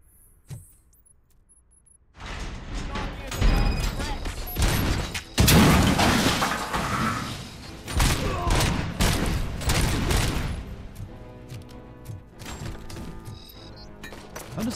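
Grenade explosions in Robocop: Rogue City come as a string of loud, booming blasts mixed with gunfire, carrying on for several seconds after a quiet start.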